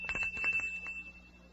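An old-time radio drama features a bell on a cereal flavor-testing machine giving a brief metallic ring with a few quick rattling taps before it dies away.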